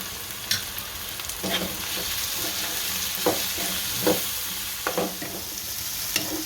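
Spices such as turmeric, coriander-cumin powder, salt and chili are stirred through oil in a pan for a Gujarati chickpea curry, with a low steady sizzle and a few distinct spoon scrapes close by.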